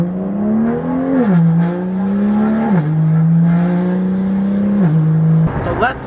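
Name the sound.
BMW M car driving in Sport Plus mode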